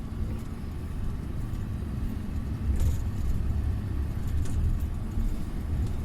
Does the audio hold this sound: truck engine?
yes